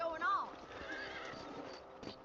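Horse whinnies and hooves clip-clop in Red Dead Redemption, a rising neigh up front followed by steady game ambience with a soft voice underneath.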